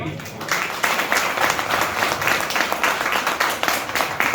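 A crowd at a business seminar in Akhnoor claps for the village heads seated in the front row, loud dense applause with a rhythmic pulse of hands running throughout, with some voices mixed in.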